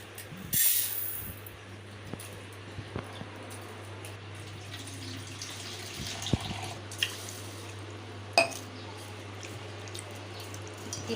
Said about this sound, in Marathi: तर मी सुरुवातीला इथे तांदूळ धुवून घेते.